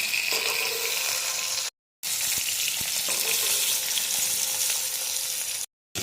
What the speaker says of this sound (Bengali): তেলেই আমি মাছগুলো ভেজে নেব।